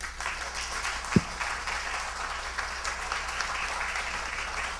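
An audience applauding at a Haitian literary celebration in New York, a dense, even wash of clapping from a crowd that holds steady throughout, with one brief low thump near the start.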